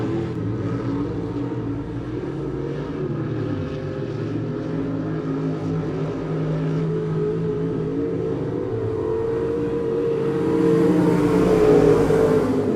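Race cars at Monett Motor Speedway roar steadily around the track in a continuous, loud engine drone that swells as they pass near the end, with no voices.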